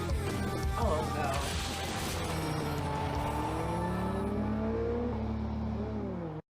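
Car driving off in a TV drama scene, engine rising and whirring away over a busy background of music and effects, ending abruptly.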